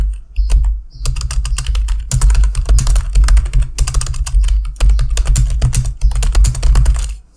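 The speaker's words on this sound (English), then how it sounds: "We can type anything we want." Steady close-up typing on a computer keyboard, a fast run of crisp key clicks with brief pauses between bursts, no voices.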